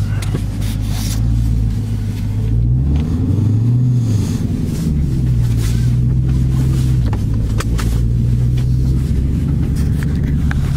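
A Hellcat car pulling away, a loud, deep engine rumble inside the cabin with rising and falling revs as it accelerates through gear changes, steady throughout with no talking.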